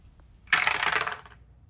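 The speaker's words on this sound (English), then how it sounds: "Roll 2 dice." Two dice clatter across a surface in one quick rattling burst lasting under a second, fairly close and alone.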